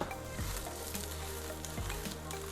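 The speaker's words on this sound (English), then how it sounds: "we're going to let this saute together" Portobello mushrooms and onions sauté in a pan with a steady sizzle and crackle, interrupted now and then by the scrape of stirring, for an eggplant lasagna.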